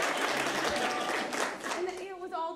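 Audience at an improvised comedy show breaking into applause, a brief dense burst of clapping with a voice speaking over and after it.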